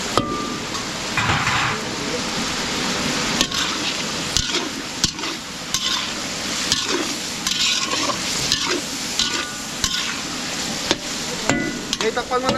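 Garlic and onion sauté in a pan at a catering service, with a loud, steady sizzle and repeated utensil scrapes and knocks against the pan throughout.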